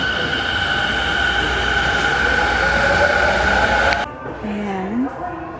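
A train at Moto Yawata station in Japan, with a loud steady rolling rumble and tonal whine that cuts off sharply, followed by quieter platform sounds and a brief rising tone, with voices in the background.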